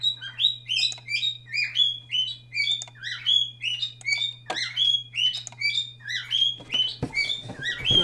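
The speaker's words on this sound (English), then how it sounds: "Shut up, bird." An indoor pet bird chirps in a room, a rapid, repeating series of high, bright tweets carrying on steadily and loud close by, over a low steady hum, with a few thumps toward the end.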